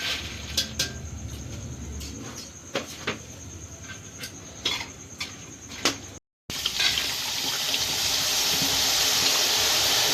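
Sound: boondi frying in oil

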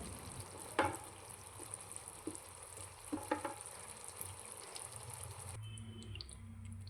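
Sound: stirring taro root curry in a pan

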